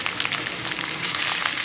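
Small-cut onions fry and brown in a hot pan, giving a loud, steady, dense sizzle with crackling bursts throughout and no talking.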